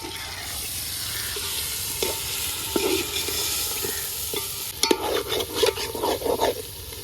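Marinated chicken pieces for dum biryani tipped into a hot pot and frying: a steady close sizzle, then a cluster of thuds, scrapes and clatter as the large pieces drop in and are moved around, with no speech.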